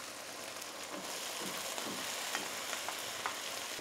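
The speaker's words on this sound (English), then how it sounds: "Now we'll add rice." Leftover cooked rice stirred into a hot frying pan while making egg fried rice, giving a steady close sizzle with scraping and tossing noises throughout, no voices.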